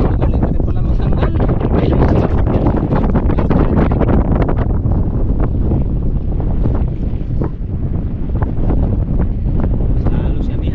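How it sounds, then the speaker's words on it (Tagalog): Strong Amihan northeast monsoon wind buffets a boat at sea, a loud continuous roar of gusts and microphone wind noise with water rushing underneath, steady throughout with voices faintly mixed in. "Mas lalo si Amihan ha, mas lalong lumakas."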